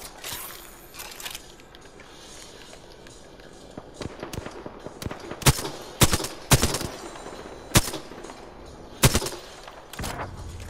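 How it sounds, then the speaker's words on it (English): Gunfire in the battle royale shooter Apex Legends: sharp, loud shots and bursts crack out irregularly over low background game noise, growing denser and louder in the second half. "Opening fire."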